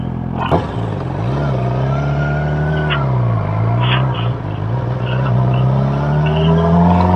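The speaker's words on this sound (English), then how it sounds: "I can hear your bike now that we figured out how to connect these two" A motorcycle engine drones steadily and close, its pitch rising and falling as it revs, with no voices over it.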